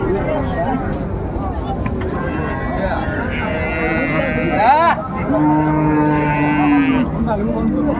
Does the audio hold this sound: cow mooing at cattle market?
yes